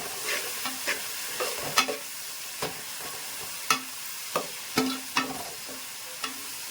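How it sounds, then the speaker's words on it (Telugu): Onions fry for mutton biryani while a spoon stirs them in the pan, a continuous soft sizzle broken by regular scraping strokes and light clinks against the metal. "ఆనియన్స్ బాగా వేగాలి, రెడ్డిష్గా వేగితేనే బిర్యానీ టేస్టీగా ఉంటుందండి"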